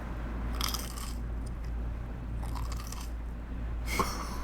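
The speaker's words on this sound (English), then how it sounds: "Crunches like an apple." Three crisp crunching bites into a raw Aji Rainforest pepper pod, spaced apart at close range with quiet pauses between, no talking.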